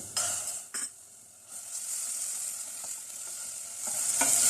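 Steady sizzling and frying of onions and garlic-ginger paste in a hot pan, with a few clinks of a utensil stirring, close and continuous, no talking.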